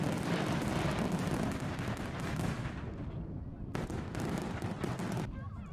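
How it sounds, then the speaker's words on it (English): Fireworks sound effect played on a live broadcast, a dense continuous barrage of booming bursts and crackles at steady loudness, with sharp breaks and fresh volleys near the end. "I've not turned the sound down on the fireworks."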